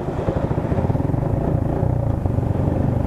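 A motorcycle rumbles slowly through a flooded, foul-smelling street in Longos, its engine putting out a close, steady low throb with faint clatter and no talk over it.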